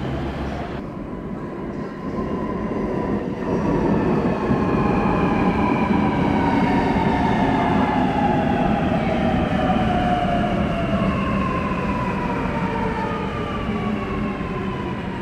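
A Sydney Metro Alstom Metropolis train, set 11, pulls out of Rouse Hill station at night, its motors rising in a steady electric whine that climbs in pitch over a continuous loud rumble of wheels on track, with no voices.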